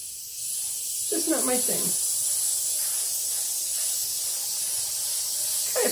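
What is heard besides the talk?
airbrush spraying paint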